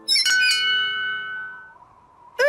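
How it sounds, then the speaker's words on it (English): A cartoon bell rung in a castle in the clouds sounds out as two bright metallic strikes in quick succession, ringing on with a long shimmering decay, then a fresh clanging burst near the end. "I'll ring the bell."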